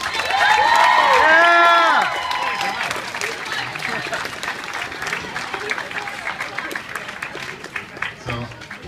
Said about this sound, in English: please give a very big round of applause for our wonderful cosplayers